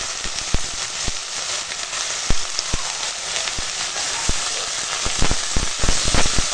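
Chopped pumpkin flowers with turmeric and salt fry in a pan with onions, giving a continuous hiss broken by sharp irregular oil pops and crackles, close and fairly loud.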